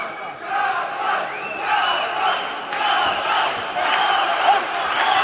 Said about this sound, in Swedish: Nu ropar publiken Jabbar